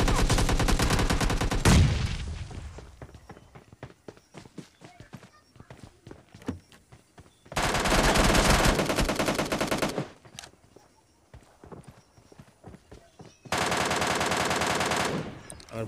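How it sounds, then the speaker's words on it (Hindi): Gunfire in the PUBG Mobile Lite video game: loud sustained automatic bursts alternate with sparse single shots and quieter gaps, returning in long rapid-fire stretches. "ये शॉट मिस हुआ यार, लेकिन दूसरा शॉट नहीं मिस हुआ"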